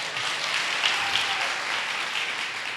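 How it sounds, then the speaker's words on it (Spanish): A church congregation at a midweek service gives a strong round of applause for a man picked to play the father, a loud, continuous clatter of many hands sustained throughout. "un fuerte aplauso al padre"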